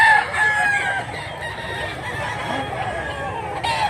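A bullstag rooster crows and clucks amid a busy, noisy outdoor background at a Mantalungon, Cebu fowl market, the calls fairly close and sustained throughout.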